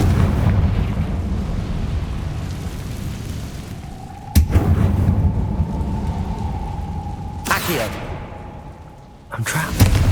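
Confringo fire spell explosions in Hogwarts Legacy over a constant low rumbling game backdrop, with sharp booming blasts at about four and a half and seven and a half seconds and a third at the end, beneath a sustained tone.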